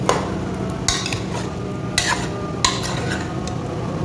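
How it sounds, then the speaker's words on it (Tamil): Mutton fries in oil in a pot for a drumstick and potato kulambu, a steady close sizzle broken by several sharp scrapes and clanks of a spoon stirring against the metal. "இது கொஞ்சம் நல்லா எண்ணெயில் கொஞ்சம் வதங்கட்டும்."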